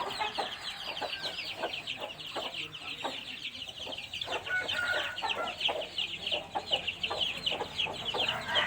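Several chickens cluck steadily in a busy run, short repeated calls overlapping at close range, with a brief higher squawk partway through.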